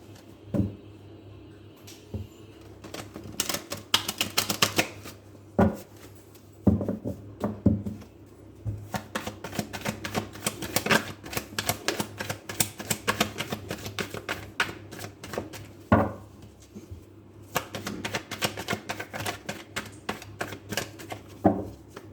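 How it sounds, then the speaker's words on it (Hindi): Tarot cards shuffled by hand, a long run of crisp riffling and tapping bursts, close and fairly quiet, with brief pauses between handfuls and no talking. "कार्ड्स को शफल करना शुरू करते हैं।"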